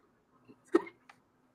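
A single sharp hiccup, close and loud, with a couple of faint small sounds around it in otherwise quiet surroundings.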